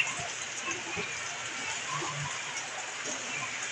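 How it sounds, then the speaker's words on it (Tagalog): Steady heavy typhoon rain hisses and patters on surfaces around a house, a dense wash of drops with faint talk underneath. "dahil sa pagkalakas ng ulan"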